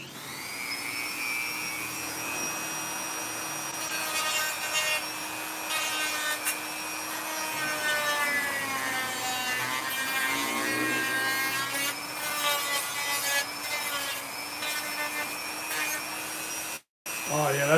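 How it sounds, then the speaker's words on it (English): Power sanding along the edges of a Jason Voorhees costume piece gives a steady whining hum with rising and falling pitch and bursts of scraping grit, close and loud. "Do the sanding this way."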